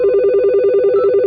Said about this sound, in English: That's coroner's ringing.